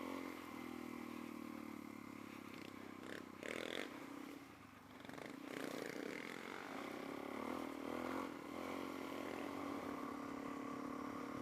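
A Suzuki DRZ400S motorcycle ridden on a rough group trail ride, the engine droning steadily with shifting revs alongside clattering and scraping from the terrain, close and continuous.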